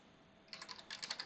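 Fingers tap out two short bursts of quick keystrokes on a computer keyboard. The clicks are close and quiet, with a faint hiss between them.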